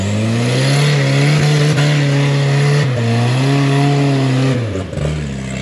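An off-road 4x4 on IROX snow tires revs hard while wheeling through snow, a loud, steady engine drone that rises and falls with throttle, with a brief dip near the end.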